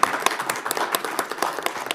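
Applause breaks out at a city council meeting, a brief burst of scattered, fairly sparse hand claps from a small audience, sharp individual claps ringing out over a couple of seconds.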